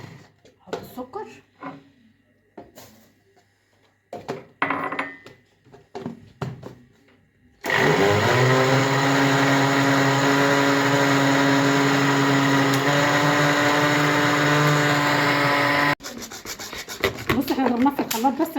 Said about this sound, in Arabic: احنا ضربناه في الخلاط بس عشان يدينا السمك ده